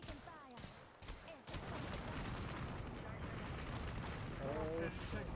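Gunfire in the shooter game Apex Legends: a dense, continuous barrage of rapid shots and booming impacts, loud and chaotic, with a voice briefly speaking over the start.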